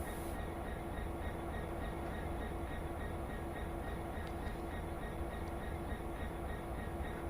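A train in the video game Train Sim World shunting backwards in reverse into a yard, with a steady low engine rumble and a faint tonal hum running continuously, no voices heard.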